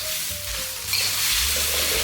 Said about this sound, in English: Then continue to cook, half simmering and half stir-frying until the sauce thickens.